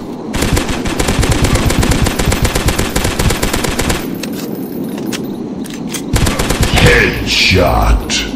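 Rapid automatic gunfire rattles in dense bursts for about four seconds in a dinosaur-hunting video game, followed by scattered single shots and other loud game effects.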